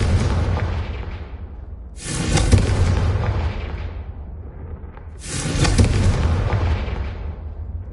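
Two loud Confringo spell explosions in Hogwarts Legacy, each a sharp booming blast with a long rumbling decay, about three seconds apart over a low steady background.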